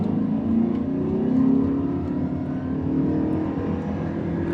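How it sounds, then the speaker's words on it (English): A 2023 Toyota Prius Prime XSE hybrid drones steadily under acceleration in sport mode, its CVT producing a sustained whirring hum that rises and swells slightly without shifting gears, heard from inside the cabin. "That CVT is working hard to keep it in the power band."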